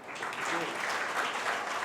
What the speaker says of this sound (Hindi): तालियां बजाएंगे आप